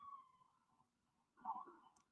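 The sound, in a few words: emergency vehicle sirens on a New York street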